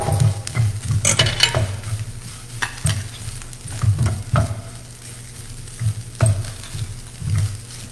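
Coconut rice roasting in a pan, with a steady close sizzle broken by repeated stirring scrapes and clatters of a utensil against the pan.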